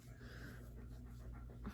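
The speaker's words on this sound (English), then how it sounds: "You can probably hear Reese breathing" Soft, steady dog panting close by, quiet and continuous with no talking.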